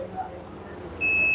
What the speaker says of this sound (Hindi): यहाँ पे बीप का साउंड आ रहा है, यानी एक पैर मिल गई।